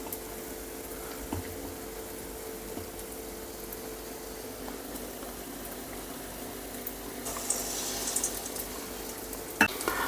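Sukkinunde sweet balls fry in a small pan of hot oil, giving a soft, continuous bubbling sizzle that stays low and even, with a brief clatter near the end.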